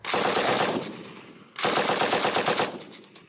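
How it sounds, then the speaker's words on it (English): Two long bursts of rapid automatic gunfire, each lasting about a second, from M60 machine guns; loud, dense, close-sounding rattles separated by a brief gap, with no voices. "The police say the first shots were automatic gunfire from the move house"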